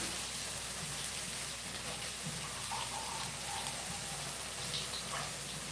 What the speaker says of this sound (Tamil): அதனால் கொஞ்சமாக தண்ணி ஊற்றுறேன்